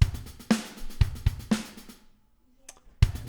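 Programmed virtual drum kit playing one bar of kick, snare and hi-hats: punchy low kicks and bright crisp hits in a steady groove, dry and close, with a short gap before the pattern restarts.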